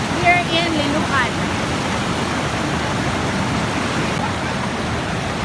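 Sea water rises and churns steadily around the rocks at Malingin Rocks in Liloan, Cebu, a broad, continuous wash of surf. A brief high whistle or call sounds near the start.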